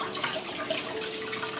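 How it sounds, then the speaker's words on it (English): A steady stream of water runs from a kitchen tap close by, a continuous hissing splash without speech. "Run your spoon with water or drip it with water."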